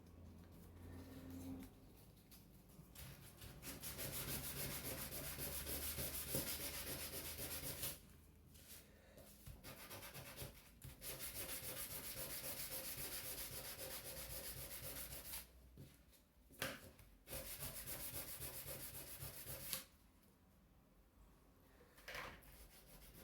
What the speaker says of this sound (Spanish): Aquí igual usted le va sacando las rayaduras que tiene con la lija.